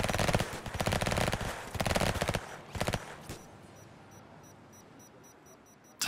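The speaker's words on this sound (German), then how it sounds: "jetzt wird voll geballert hier" Rapid automatic gunfire from a police special-forces squad in the real-time strategy game Emergency, loud bursts of shots in several close volleys that stop abruptly, followed by quiet ambience.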